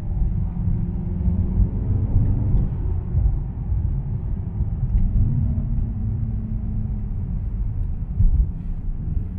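A 612-horsepower Mercedes E63 S AMG sedan driving, heard as a steady low road rumble and engine drone from inside the car, fairly loud and unbroken, with no speech.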